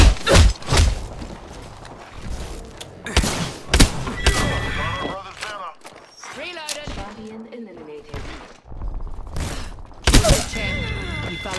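Gunfire rings out in a squad-based shooter video game, with sharp shots and bursts scattered among thuds and impacts while players talk over the action.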